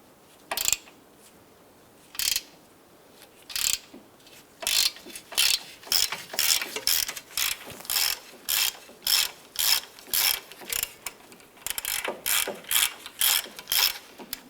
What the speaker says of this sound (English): remove this lower pinch bolt for the ball joint